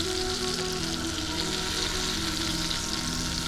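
Brinjal pieces frying in oil in a kadai for a dhaba-style Punjabi masala baingan give a steady, close hiss that runs evenly throughout, with a faint constant hum underneath.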